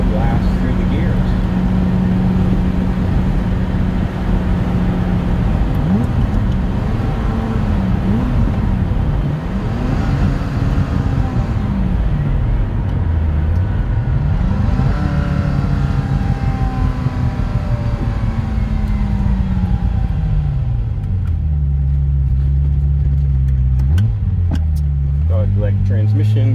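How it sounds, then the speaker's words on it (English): A 1989 Ferrari Mondial T Cabriolet engine revs up and eases off repeatedly as the car pulls up, turns and accelerates through the gears, loud and close throughout with a steady roar of road and wind. "let the car speak for itself as we pull up, do a U-turn, and take a blast through the gears"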